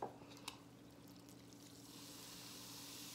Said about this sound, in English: let me pour some water in here